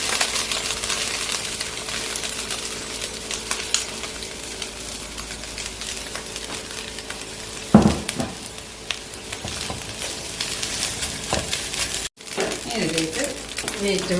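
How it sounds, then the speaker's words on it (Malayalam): Rice tipped into a hot pan and stirred for egg fried rice, giving a low steady sizzle with scattered clinks and scrapes of the utensil against the pan, close by, and a voice talking over parts of it. "ഇതിലേക്ക് നമ്മൾ എടുത്ത് വെച്ചേക്കുന്ന റൈസ് ഒന്ന് ഇട്ട് കൊടുക്കാം"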